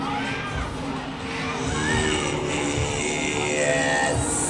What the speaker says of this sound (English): make some noise. Somebody scream.